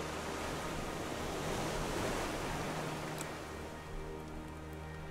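Ocean water in the Raft survival game, a steady broad wash of waves and surf filling the whole stretch at constant loudness with no voices.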